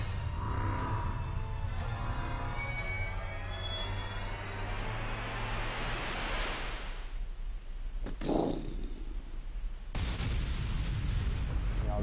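A large explosion in the video game Soma Bringer: a sustained rumbling roar with a sweeping, rising hiss, then sharp bursts near the end, loud and with no talking.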